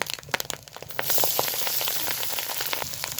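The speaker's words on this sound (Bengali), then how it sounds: "এবার খুব সুন্দরভাবে একটু ডিম ডালটাকে কষিয়ে নেব" Mashed red lentils (masoor dal) and scrambled egg sizzle in a generous amount of oil, starting with scattered crackling pops and swelling after a second into a steady, close hiss of frying with occasional sharper spits, with no voices.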